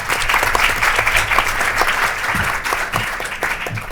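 An audience at a university faculty event gives a steady round of applause, a dense, close ovation of many hands that holds at an even level throughout.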